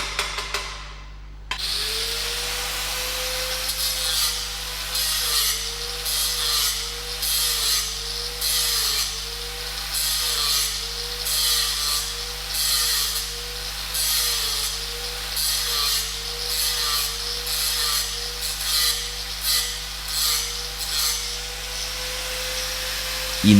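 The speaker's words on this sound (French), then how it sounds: "il est nécessaire de meuler la fin du cordon en biseau comme pour un point" A grinder works the end of a weld bead, left by a coated stick electrode, into a bevel in repeated rasping strokes. A steady tonal hum runs underneath, and the rhythmic passes continue for over twenty seconds.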